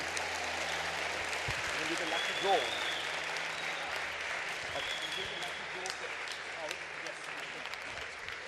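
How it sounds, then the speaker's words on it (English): Audience applause after an astronaut's lecture to aviation students in South Africa, a steady continuous clapping from a crowd filling the room, fairly even in loudness throughout, with scattered voices mixed in. "So I think we should just give her one more round of applause"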